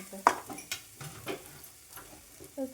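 Ginger, green chili and garlic paste frying in coconut oil, a soft sizzle with stirring scrapes and a few light clinks of a utensil against the pan, fairly faint and close.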